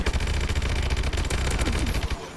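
Rapid bursts of automatic gunfire in Call of Duty Advanced Warfare multiplayer, loud and dense, with continuous rattling shots filling the clip before cutting off near the end.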